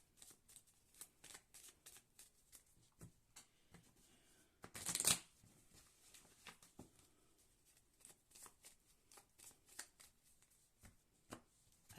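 Playing cards shuffled for a card reading, a steady run of soft riffling flicks and taps with one louder, denser riffle burst near the middle, close and fairly quiet with no talking.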